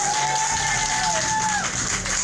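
A school hall audience of teachers claps and cheers, a dense wash of applause running steadily with a few sustained tones on top, loud and close, no clear speech over it.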